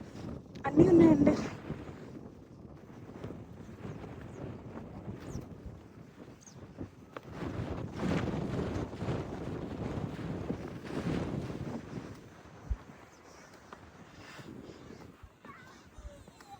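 Wind gusts buffet the microphone on misty grassland hills at Yangmingshan in northern Taiwan, a rough fluctuating rumble with stronger bursts, while a person talks through much of it.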